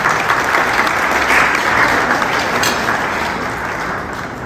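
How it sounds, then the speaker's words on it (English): Loud, dense applause from attendees at a literacy foundation fundraiser, a continuous crowd clapping that stays full for most of the stretch and eases slightly in the final seconds. "Please give yourself a big round of applause"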